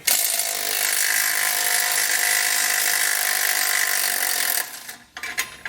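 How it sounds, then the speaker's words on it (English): Steady whir of a power tool, likely an impact wrench, driving a 16mm socket to remove a frame bracket bolt on a 2021 Jeep Wrangler, loud and continuous for over four seconds before cutting off into brief clatter. "We're going to remove that with a 16mm socket."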